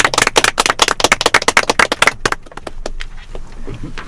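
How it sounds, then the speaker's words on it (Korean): A small group claps in quick, crisp bursts to close a Korean fan interview. The clapping is close and lively for about two seconds, then thins to a few scattered claps over a quiet room. "모두 다 함께 박수하면서 마무리 짓도록 하죠"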